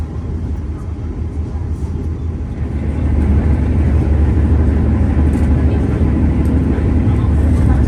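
Steady low rumble of an early-morning passenger train running from Jakarta toward Jogja, a continuous droning roar heard from inside the carriage that swells louder partway through, with no voices.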